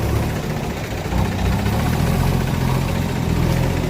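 A JCB excavator and tractors run through a midnight cleanup drive in Bhiwani, their engines a loud, continuous low rumble and idle drone with steady vibration and no pauses.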